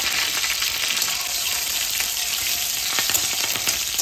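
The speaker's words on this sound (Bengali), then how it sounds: "তেল গরম হয়ে গেছে, ফোড়নে দিয়ে দিচ্ছি গোটা জিরা আর দিয়ে দিচ্ছি কাঁচা লঙ্কা পেঁয়াজ" Whole cumin seeds, green chilli and onion sizzle in hot mustard oil, a loud continuous close-up crackling hiss with small pops throughout and no voices.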